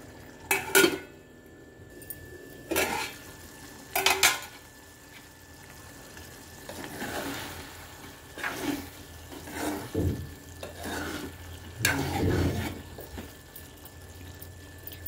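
Brinjal and pea masala curry simmers in a pan on a stove, with scattered metallic scrapes and clinks of a spoon stirring against the pan between quieter stretches of soft bubbling, close by.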